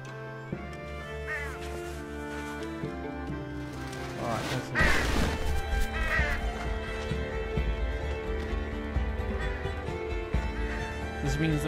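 Harsh cawing bird calls in the video game Unravel, several separate croaks rising over a steady layer of game music, close and fairly loud, with a crash partway through and someone talking over parts of it.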